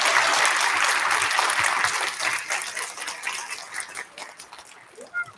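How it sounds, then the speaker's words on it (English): Elementary school audience at a student recognition ceremony giving a big round of applause, loud dense clapping at first that thins and fades into scattered claps toward the end. "Can we make one more big round of applause for all of our friends that received our recognition today?"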